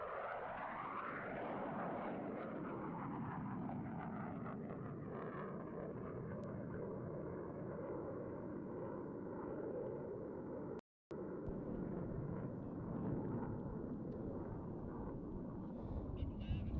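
An F-16 fighter jet performs a four-point roll at an airshow, producing a distant, steady broadband jet roar that sustains throughout, with faint commentary in the background.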